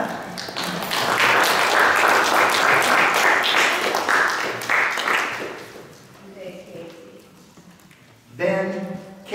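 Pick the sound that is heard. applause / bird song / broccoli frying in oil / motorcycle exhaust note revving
applause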